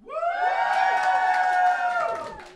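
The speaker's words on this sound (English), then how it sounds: "give us a cheer if you like modern Danish Kumar" Comedy show audience cheering for comedian Nish Kumar: a loud, sustained burst of whoops and shouts from many voices that swells and then fades over a couple of seconds.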